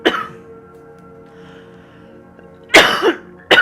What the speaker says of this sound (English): Okay, I'm going to cough.